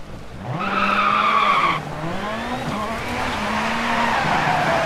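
Ford Fiesta Rallycross rally car in the DIRT Rally game at Lydden Hill, with its engine note swinging up and down as it slides sideways on gravel, loud and continuous throughout with no talk.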